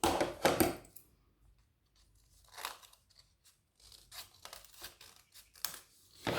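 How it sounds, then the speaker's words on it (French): Scissors cutting folded paper for an origami Christmas tree, close and quiet: a loud crisp snipping and rustling opening, then a pause, then a run of short irregular snips and crinkles separated by silences. "je vais juste couper de cette pointe-là à cette pointe-là"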